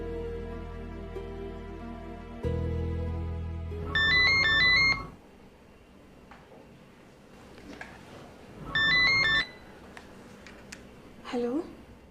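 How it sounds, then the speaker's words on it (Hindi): A phone ringtone chimes in two short melodic bursts a few seconds apart, loud and close, with a shorter tone near the end and quieter sounds between. "8वें दिन उसका फोन आ गया।"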